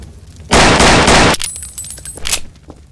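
Dense burst of gunfire in a game, a loud continuous volley lasting under a second, followed by scattered sharper pops and a brief high ringing tone.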